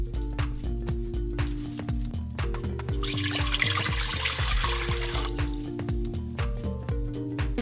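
Two cups of water poured for rice, a bright hissing splash in the middle of the clip, laid under rhythmic background music.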